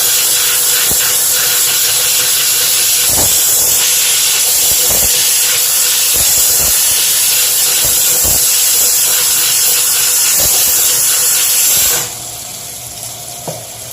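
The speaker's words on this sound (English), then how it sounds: "What about water flowing on it and some steam." A HomeRight steam cleaner hisses steadily and loudly for a long stretch with occasional clicks while cleaning dirty toothbrushes, then cuts off abruptly near the end, leaving a faint residual sound.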